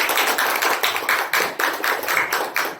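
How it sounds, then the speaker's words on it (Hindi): Audience applause at a company celebration gathering, a dense steady clapping that swells in repeated waves of hand claps, loud and close throughout with no talking over it. "मैं अपने अपलाइन और अपनी इस कंपनी के लिए एक बार 2 लाख ताली चाहता हूँ।"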